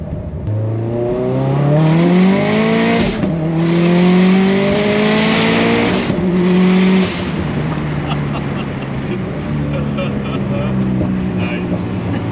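A 612 hp Subaru WRX with a 2.0L turbo engine and Garrett G25-660 turbo accelerates hard from inside the car, the engine note climbing loudly through rising revs with brief shift breaks, then easing off as voices talk over it.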